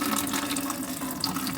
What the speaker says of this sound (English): This should release the water that's inside it.